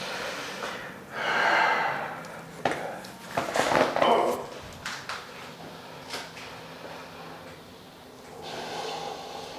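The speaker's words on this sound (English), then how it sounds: "Take a nice deep breath for me, okay? Another nice deep breath." Deep, audible breaths drawn in and pushed out during a chiropractic adjustment, with loud, snorting exhales close by and a few sharp knocks in the middle, then a softer breath near the end.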